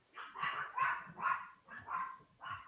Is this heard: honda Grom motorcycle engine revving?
no